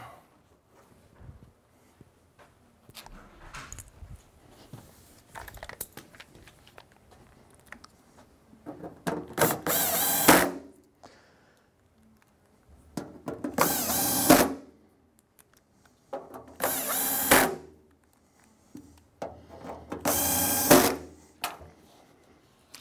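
A power drill drives four screws into the bottom front of an Artisan 2.5/3-e coffee roaster; four loud whirring bursts of a few seconds each, separated by quiet handling clatter.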